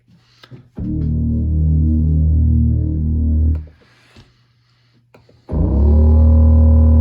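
Two sustained, round synth bass notes from a warm bass preset on an Akai Force, each held for a few seconds with a pause between, deep and warm with slow filter attack and no other sounds.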